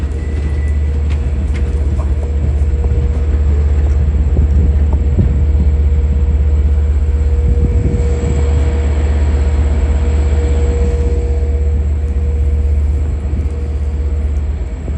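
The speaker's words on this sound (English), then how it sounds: "as train 508 goes through" Long Island Rail Road train 508, a three-car C3 set with a D30AC locomotive, rumbles steadily past nearby, a loud sustained low drone with wheel noise and a faint high whine over fifteen seconds.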